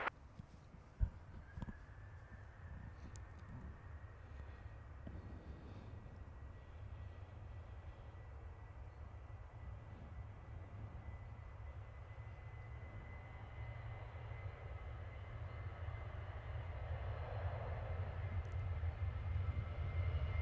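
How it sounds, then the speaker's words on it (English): Jet2 Boeing 737-800 departing London Stansted, heard from a distance as a steady low engine roar that builds gradually over twenty seconds, with a faint high whine running through it. "It's Jet2 737-800 heading off to Lanzarote"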